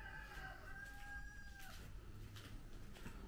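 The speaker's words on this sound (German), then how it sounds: "Ihr hört, wir haben Tiere als Nachbarn, Hühner und Esel und keine Ahnung was alles noch." A rooster crows in a drawn-out call among neighbouring farm animals near a finca on Mallorca, fairly distant and soft over a steady background hiss, with quieter fowl sounds trailing afterward.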